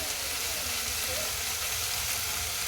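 Tomato and ridge gourd fry in a pan with a steady, soft sizzle that carries on unbroken, faint and even throughout.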